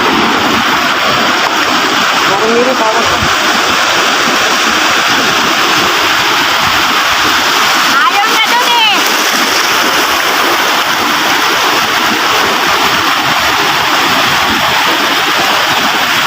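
Continuous roar of surf and breaking waves fills the scene, with a brief voice speaking faintly partway through.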